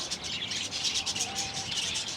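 Birds chirp in short, repeated high tweets at a seaside resort in Mandarmani, moderately near and fairly faint over soft background noise.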